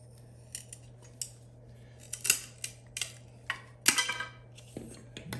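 A 45-degree cut on a piece of quarter-round trim for a baseboard corner gives a series of sharp, close snipping clicks, irregularly spaced with a few louder crunches, over a faint steady hum.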